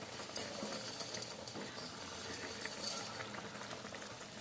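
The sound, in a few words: water with ginger boiling in a pot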